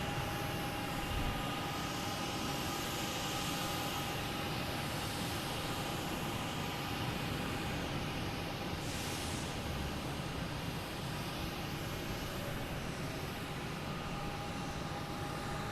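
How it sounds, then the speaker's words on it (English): A Lufthansa Airbus A380 on landing approach at Boston Logan Airport, heard as a continuous, even jet roar with a faint steady whine and no voices. "Lufthansa A380 coming in from Munich."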